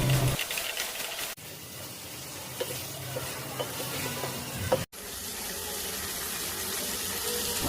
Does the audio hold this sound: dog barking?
no